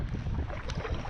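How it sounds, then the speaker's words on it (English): Strong wind buffets a kayak out on a lake, a steady broadband rush with gusty roar close to the microphone and no talking. "The wind is so strong."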